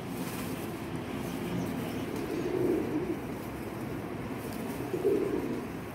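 Pigeons coo softly and low, with two noticeable coos standing out from a steady murmur of background noise.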